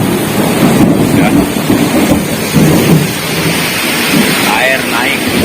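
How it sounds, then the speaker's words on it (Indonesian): Heavy rain pours steadily over a flooded grape garden, with low rumbles of thunder and wind buffeting the microphone throughout. "kebun Angel Garden sedang hujan deras ya"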